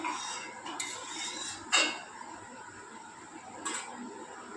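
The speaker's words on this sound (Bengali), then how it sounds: "আবারও ঢাকাটা দিয়ে দিলাম।" A metal lid is set back onto a cooking pot of potatoes, a single bright clank standing out, with a couple of lighter metallic clinks around it over a quiet kitchen background.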